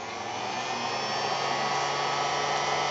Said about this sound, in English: I'm going to take my trusty heat gun.